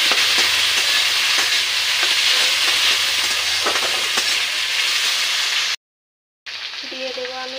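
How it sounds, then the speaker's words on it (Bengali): Taro stolons fry with browned onions in a pan, a loud continuous sizzle with repeated scraping stirs, briefly cutting out to silence before the frying resumes more softly. "এখন আমি ভালো করে নেড়ে চেড়ে নেব"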